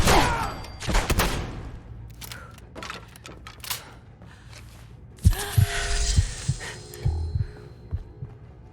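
Gunfire in Fallout 4, a burst of rapid close shots at the start followed by scattered single cracks and impacts with a low humming background.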